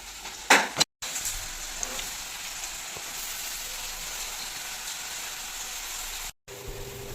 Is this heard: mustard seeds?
yes